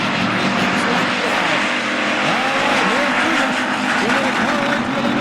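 IMCA Hobby Stock race cars roar down the front straightaway at RPM Speedway during the Fall Nationals heats, several engines revving and whining in a loud, continuous pack with a crowd murmuring beneath.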